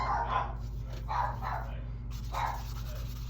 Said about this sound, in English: Ignore the dog barking at my husband.